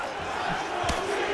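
Arena crowd in the EA UFC 3 fighting game roaring and cheering steadily through a Khabib Nurmagomedov bout, a dense continuous wash of noise with a brief sharper swell near the end.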